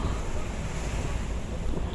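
Steady, loud wind buffets the microphone with a broad rushing roar at Dolomite Beach on Manila Bay at sunset, surf faintly mixed in beneath, no voices.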